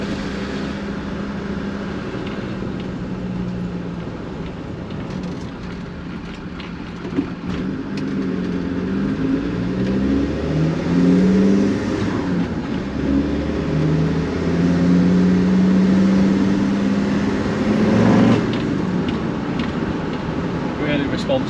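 A Td5 Land Rover Defender fitted with a GTB450 turbo accelerates on the road. A steady engine drone climbs in pitch through the gears under cabin noise, while people talk over it.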